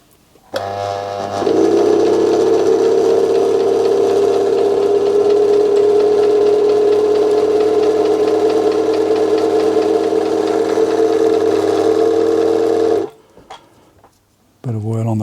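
An Elna Lotus sewing machine, freshly oiled after a common fault was repaired, runs steadily for about eleven seconds with a loud, even motor whir and a light rattle, then stops abruptly.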